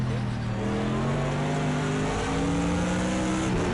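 A Bentley GT3 race car's engine in Project Cars 2 drones loudly and steadily up close, its pitch climbing gradually as it accelerates with no break.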